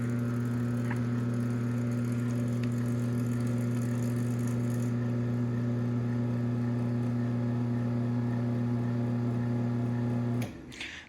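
A used LiftMaster Estate Series belt drive garage door opener, over twenty years old, runs with a steady low motor hum for about ten seconds, then stops with a brief clunk and no talking.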